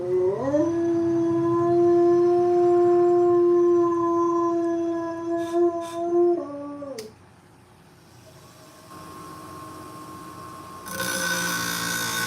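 A dog lets out a long, sustained howl in response to a passing fire truck siren; the howl drops and fades, followed by quieter sounds and a burst of noise near the end.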